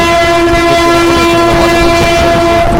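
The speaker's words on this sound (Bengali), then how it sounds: "এখানে সমস্ত ট্রেন একটি ট্রেন চলে যাচ্ছে।" A train passes at Bardhaman Junction: a loud, close, continuous rumble of rolling wagons with a sustained horn tone running throughout, no voices.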